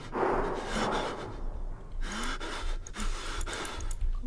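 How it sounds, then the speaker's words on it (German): Heavy, ragged male breathing from the horror video game Outlast, with loud gasping breaths close up that repeat unevenly for several seconds and no speech over them. "Also wie der Kerl atmet."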